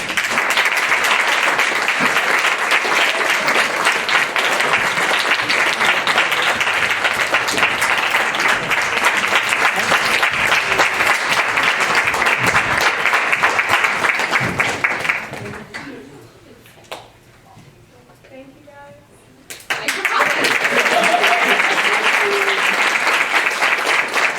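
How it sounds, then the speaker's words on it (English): Loud, sustained applause from a crowd at a cocktail gathering, a standing ovation for departing members that rolls on for about fifteen seconds, dips to near quiet briefly, then surges back. "Get one last standing ovation for the 403s leaving us at the end of the semester"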